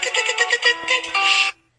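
A phone plays a homemade text message ringtone, a bright rhythmic burst of beat-like tones lasting about a second and a half, then cut off into silence.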